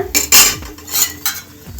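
Metal ladle scraping and clinking against a hot pan while spreading ghee over a paratha, a few sharp bursts of scraping separated by brief pauses, close and loud with no talk.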